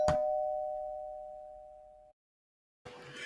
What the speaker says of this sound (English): Someone's ringing your bell.